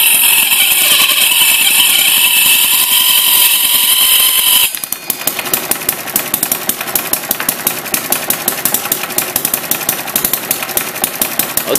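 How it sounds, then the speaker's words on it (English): An old hit and miss engine drives a buzz saw through logs, its steady loud chugging firing hard and continuous under load with a rattling, buzzing cut, brighter and more even in the first few seconds before the saw bites. "You can hear the hit and miss engine."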